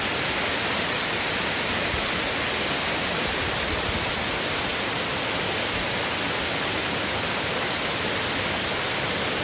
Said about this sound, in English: Have another squeeze at the little waterfall.